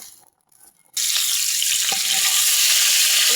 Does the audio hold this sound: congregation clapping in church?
no